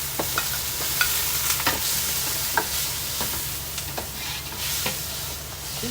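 Shrimp sizzling and frying in a pan with bottle gourd, a steady crackling hiss broken by repeated scraping stirs of a utensil, close and moderately loud with no voices.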